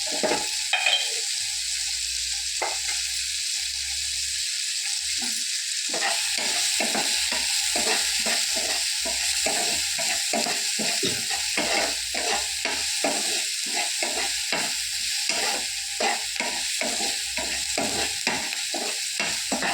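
Onions and tomatoes sauté in a pan over a constant sizzle, while a spoon stirs and scrapes in a quick repeated rhythm, loud and close with no voices.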